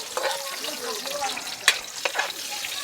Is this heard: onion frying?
yes